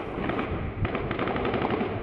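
Sustained bursts of live automatic gunfire during a Saudi security forces' raid on activists' homes, loud and rapid with steady repeated shots throughout.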